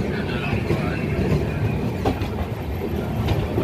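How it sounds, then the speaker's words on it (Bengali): The Howrah Bolpur Shantiniketan Express rolls past at a station near Howrah, a steady loud rumble of wheels and carriages with faint clickety-clack and a touch of squeal. "বন্ধুরা এই সাইডে দাঁড়িয়ে আছে হাওড়া বোলপুর শান্তিনিকেতন এক্সপ্রেস।"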